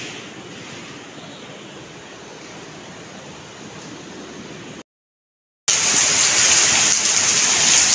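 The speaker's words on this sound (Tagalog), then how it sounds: "Ang lakas ng ulan sa labas." Heavy rain pours steadily outside as a loud, unbroken wash of noise, cuts out briefly, then returns even louder and brighter.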